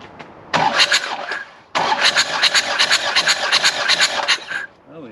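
A Takeuchi excavator engine cranks over without catching, in two loud, close bursts of fast rhythmic churning with a brief pause between them.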